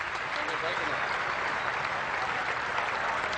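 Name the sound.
cricket crowd applauding from video game Cricket 2002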